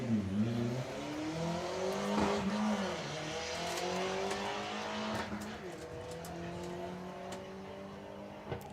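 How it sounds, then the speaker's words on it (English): A 4-cylinder Audi TT drag car runs down the strip at a drag racing meet, its engine revving hard through rising gear sweeps. The car sounds moderately distant, with crowd and commentary noise underneath. "that is Kaz Waterhouse with the Menopause Audi TT running in 4-cylinder"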